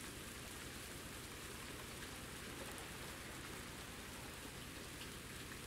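Steady rain patters in the video game Ultimate Fishing Simulator, a soft, even, unbroken wash of drops falling on surfaces, faint and without voices.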